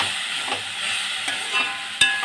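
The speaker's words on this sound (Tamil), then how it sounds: "அதுக்கப்புறம் தக்காளியும் போட்டு கொஞ்சம் வதக்கிக்கோங்க." Tomatoes sauté in a hot pan with a steady broadband sizzle, punctuated by a few sharp scrapes and taps from stirring; no voices.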